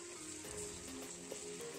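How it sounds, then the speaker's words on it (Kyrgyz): Garlic and onion fry in a pan with a soft, continuous sizzle, faint and steady throughout, with no speech. "пиязды туурап дагы 1-2 мүнөт кууруп алабыз."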